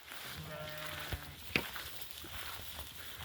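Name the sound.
sheep bleating in a flock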